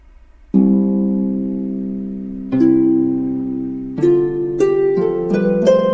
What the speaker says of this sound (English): That sound is produced by a harp.